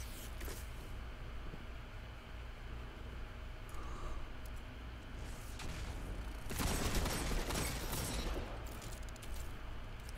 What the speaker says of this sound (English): actually killing him with just my hand cannon